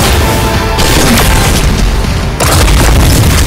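Heavy gunfire in the mech battle game Super Mecha Champions booms in loud, dense, continuous bursts, one short dip partway through, with no talking.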